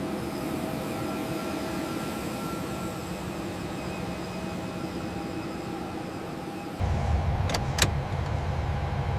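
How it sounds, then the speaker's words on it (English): A Boeing 787 Dreamliner jet taxiing toward the runway, a steady broadband engine roar and rumble that jumps louder near the end, with brief high whistling tones at the close. "The Dreamliner taxis towards the runway, its navigation lights blinking, a majestic presence."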